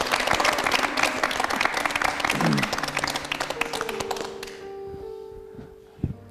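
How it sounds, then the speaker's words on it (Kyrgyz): A TV studio audience on a Kyrgyz talk show claps for musician Erlan Toguzbaev. The dense, loud applause lasts about four seconds, then fades into quieter sustained tones and a single thump. "эфирибизди көрккө бөлөгөн Эрлан Тогузбаевга кол чаап коелу"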